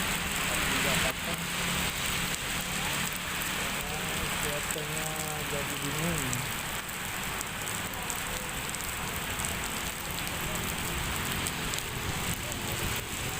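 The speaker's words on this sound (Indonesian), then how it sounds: "habis keliling-keliling jalan-jalan terjebak hujan" Rain falls across a town square in Bondowoso, a steady broadband hiss that runs the whole length with someone speaking over it throughout.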